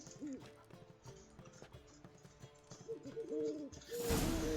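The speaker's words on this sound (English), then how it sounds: "And the owl was trying to get in on the conversation the entire time." An owl hoots repeatedly in The Witcher 3: Wild Hunt, its calls rising over a game soundscape with footsteps and clatter, ending in a louder burst of noise.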